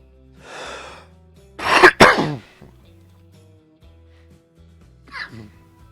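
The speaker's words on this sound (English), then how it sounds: "I apologise for the coughing." A few close, harsh coughs and throat-clearing bursts, with a quieter cough after a pause.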